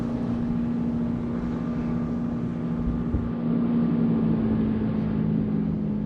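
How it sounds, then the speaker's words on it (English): A sailboat motoring out across the water at about ten miles an hour, its engine giving a steady, close droning hum with a constant rushing of wind and water, and no voices. "Sailboat coming out, y'all."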